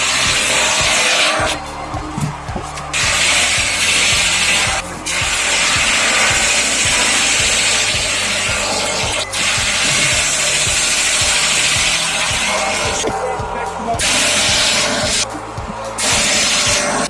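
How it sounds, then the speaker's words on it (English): Homemade firewood processing machine cutting and splitting logs, a loud steady engine drone with repeated rhythmic thumps and bursts of harsh sawing noise that start and stop through the clip. "Imagine a machine that transforms wood splitting from a tough chore into an effortless experience."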